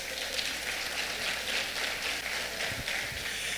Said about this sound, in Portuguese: Essas foram as palmas mais ridículas que eu já vi na minha vida.